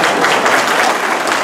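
Audience applause at an outdoor barbecue keynote event, steady dense clapping from many hands filling the whole moment without any voices.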